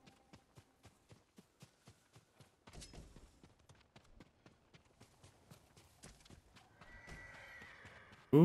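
Ghost of Tsushima horse with steady clip-clop hooves walking, then quickening; a loud whinny rises near the end over footfalls and game ambience.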